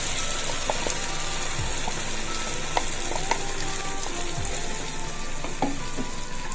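Ground masala frying with ivy gourd in a pan for a masala gravy: a steady, close sizzle with a few light stirring clinks and taps, no voices.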